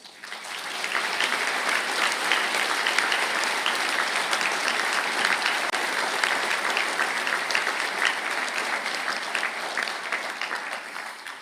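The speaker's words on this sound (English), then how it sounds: "stand for a round of applause" A large graduation audience applauds master's and diploma candidates at a conferring ceremony, sustained broad clapping from many hands that holds steady and even for its whole length before easing slightly at the close.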